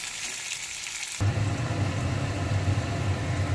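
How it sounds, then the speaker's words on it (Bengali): Chopped onion frying in hot oil for a vegetable dish, a steady loud sizzle that swells suddenly as the onion goes into the pan and then continues evenly. "পেঁয়াজটাকে একটু ভালো করে ভেজে নিতে হবে লাল করে।"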